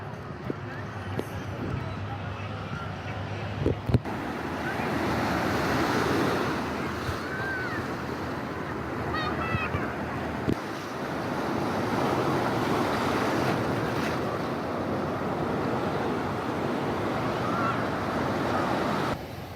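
Choppy sea at Playa Marlín in Cancún, high waves breaking on the beach in a continuous surf roar with wind gusts, a person talking over it throughout.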